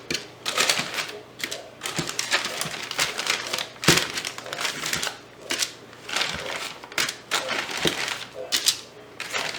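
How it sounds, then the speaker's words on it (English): Cookies, frozen unbaked, being dropped into a plastic freezer baggie, giving crisp repeated crinkling and rustling of plastic with soft knocks as pieces go in, close and fairly loud, with no talk. "And all we're gonna do is we're just gonna put these cookies in the baggie."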